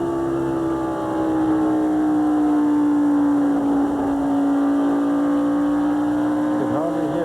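A V8 NASCAR race car engine at the 1999 MBNA Platinum 400 roars steadily from a distance, its tone sliding gradually lower as it comes back on throttle, a continuous drone with crowd and track noise beneath.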